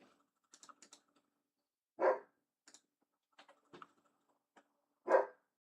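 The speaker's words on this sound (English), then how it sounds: "not have as much of the dog barking in the background" A dog barks twice in the background, each a short loud bark a few seconds apart, with sparse clicks of computer keys between them.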